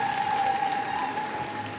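A church congregation at Holy Mass claps together in sustained, dense applause, a steady wash of many hands heard from within the hall with a faint tone running beneath.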